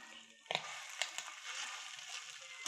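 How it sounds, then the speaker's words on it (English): Crab cakes sizzle steadily on a grill, a continuous close frying hiss with a few sharper crackles and pops as they are flipped. "I'm going to go ahead and give these a flip."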